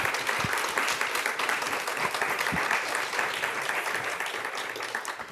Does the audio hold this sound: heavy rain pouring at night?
no